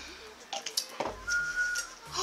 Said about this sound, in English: Oh, I just whistled